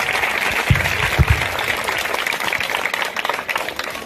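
An audience claps for a retiring school principal at a residential school ceremony in Mahabubabad, a steady wash of many hands with a few louder close claps near the start.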